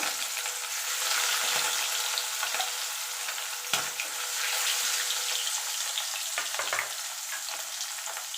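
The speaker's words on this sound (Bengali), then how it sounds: "এবার আমি মাছগুলো একটা একটা করে দিয়ে লাল লাল করে ভেজে তুলে নেব" Pieces of rohu fish frying in hot oil, one after another, a bright continuous hiss with occasional sharper spits and a few soft knocks, close by and unaccompanied by voices.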